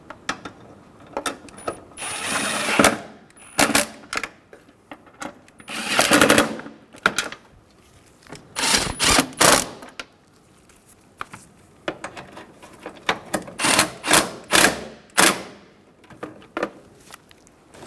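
A ratchet wrench snugs the oil pan bolts on a 2000-2007 Ford Focus engine, giving bursts of rapid clicking in short uneven runs with brief pauses between them, close and sharp.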